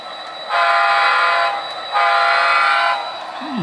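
A model train locomotive's sound system gives two long, loud sustained horn blasts with a short gap between, over a steady low rumble.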